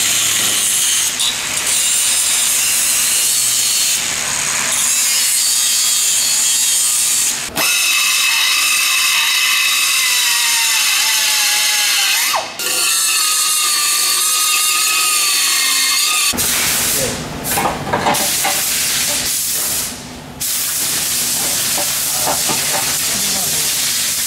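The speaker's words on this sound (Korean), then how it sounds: "H파이프를 지금 용접을 하고 있습니다" Steady hissing and crackling of welding on an exhaust H-pipe for a Hyundai Genesis G70 fills the clip, continuous and close, with brief breaks and a faint voice in the background.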